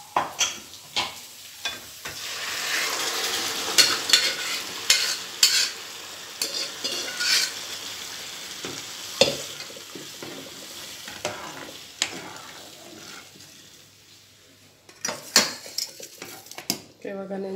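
Moong dal fries in a pan for avalakki khara pongal, a continuous sizzle under repeated scraping and clinking of a spoon against the pan, with a short lull near the end before stirring resumes.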